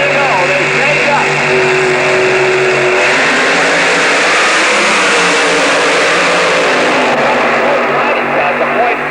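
A Trans Am drag racing car launching at the NHRA Winternationals in Pomona in 1988, a loud, sustained engine roar that fills the whole stretch, with crowd and track noise mixed in.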